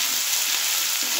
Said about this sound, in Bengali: পেঁয়াজটা একটু হালকা করে ভেজে নেব 1 মিনিট